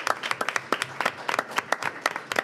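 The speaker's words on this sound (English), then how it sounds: "Please give them a round of applause, whether it's in your hearts or out loud." A few people at a school board of education meeting clap in brisk, uneven bursts, sparse and fairly quiet, with individual hand strikes distinct rather than blending into a crowd roar.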